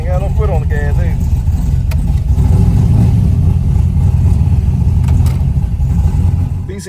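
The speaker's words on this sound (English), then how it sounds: "Look how good the idle is. You be thinking this thing gonna cut off." A car engine idling at a stop with no foot on the throttle, a loud, steady low rumble held throughout, with someone talking over it at the start.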